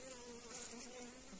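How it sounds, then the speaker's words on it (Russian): Bees buzzing inside a cardboard trap box in a forest, a dense steady hum of many insects from a settled swarm, close and continuous throughout. "Картонная коробка. Его, смотрите, пчелы."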